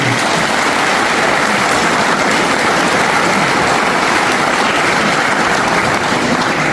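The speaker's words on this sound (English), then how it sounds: "You give them all a round of applause." Loud, dense applause from a concert audience for a band with sax, clarinet, flute and piano, a steady unbroken wash of clapping that stays at full strength throughout.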